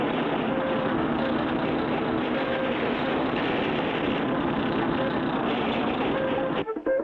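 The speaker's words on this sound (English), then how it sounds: "We'll use this as a bulldozer to push the oily sand back" A vehicle pressed into service as a bulldozer to push oily sand in the cartoon Clutch Cargo, a steady, loud engine drone that holds throughout before breaking off abruptly near the end.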